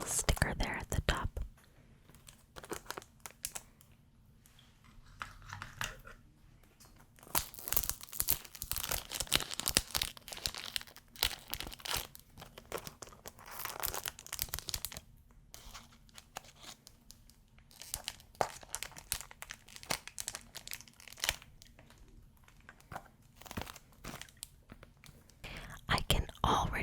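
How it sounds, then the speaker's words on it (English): Crinkly packaging rustling and crumpling as a rose perfume bottle is unwrapped, close and intermittent in bursts, with soft whispering between the rustles. "I can already smell the rose just taking it out of the packaging."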